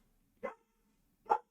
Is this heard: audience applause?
no